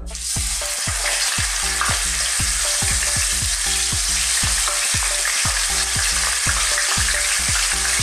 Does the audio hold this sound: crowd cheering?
no